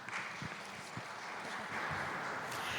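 A conference audience applauds after an academic talk, a steady, continuous wash of many hands clapping from across a large room, holding an even level throughout.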